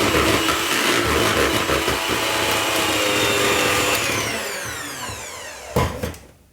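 Almond cake batter for a tourte aux amandes is whisked in a steady, loud whirring churn that holds evenly for several seconds, then sputters and cuts off near the end, with no speech.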